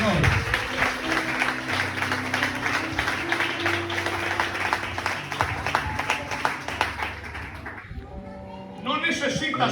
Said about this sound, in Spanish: Den una fuerte de palmas al Señor.